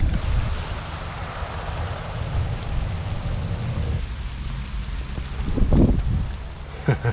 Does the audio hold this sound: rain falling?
yes